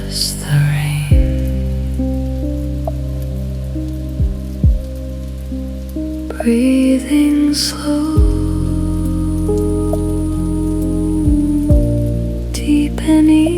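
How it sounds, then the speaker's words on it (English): Steady soft rain falling on a Tokyo night, a continuous wash with low tonal music beneath and a calm voice speaking softly over it. "Just the rain."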